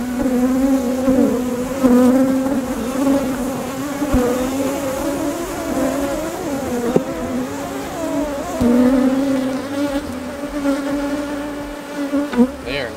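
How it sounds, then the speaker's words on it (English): Dense, loud honeybee buzzing fills the air during a Minnesota hive inspection, a continuous agitated drone from many bees close around, rising and wavering throughout with no talk. "I don't like how much I'm getting buzzed here."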